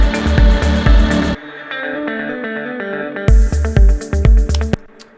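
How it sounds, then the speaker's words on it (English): Progressive house section with a high-pass filter sweeping in, thin and percussive at first, then the full bass and kick drop back in before thinning again, loud, with panning movement. "I'm just automating a high pass filter just to, introduce that section."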